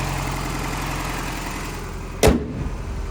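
A 1992 Toyota 4x4 pickup with a 22RE four-cylinder idles steadily and close inside an enclosed building, a low even rumble for most of the clip until a brief clunk near the end as it shuts off.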